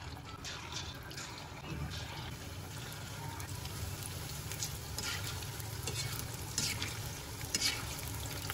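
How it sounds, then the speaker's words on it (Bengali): Momo pakoras deep-frying in hot oil at home, a steady low bubbling sizzle with occasional utensil clinks and stirring, continuous and moderately close. "এখন ভালো করে পকোড়াগুলো ভেজে নিচ্ছি"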